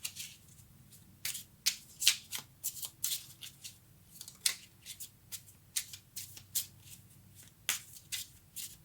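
Tarot cards being shuffled by hand, a series of crisp riffling flutters and snaps in irregular bursts, close and fairly quiet with no talking.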